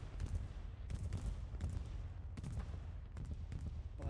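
Bombing run explosions landing in a team-based shooter video game match, heard as a dense, rumbling barrage of repeated blasts and booms that keeps going throughout at moderate level, with no talking.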